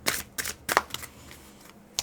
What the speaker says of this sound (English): We're going to shuffle a few more times on this.